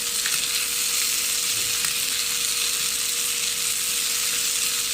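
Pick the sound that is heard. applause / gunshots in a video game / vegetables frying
vegetables frying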